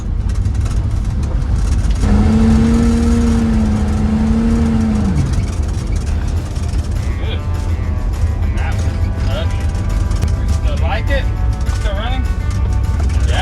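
A Dodge Ramcharger that sat unused for 20 years runs with a steady low engine drone, bogging down midway as its pitch sags, while people talk over it throughout.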